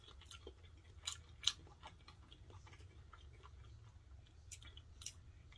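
Quiet, close chewing of cooked farm eggs, soft moist mouth clicks and bites coming in irregular bursts over a low background hum.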